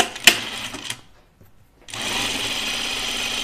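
A sewing machine stitching a French seam on a dress, a short whirring run that stops, a brief pause of near silence, then a steady continuous buzz of stitching resuming, close and clear without talking.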